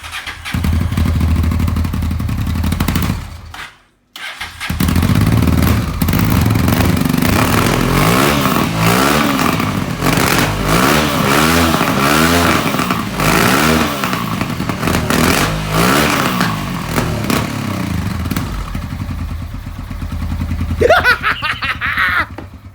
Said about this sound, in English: This is the first time that the bike's been run, but it is now revving up properly.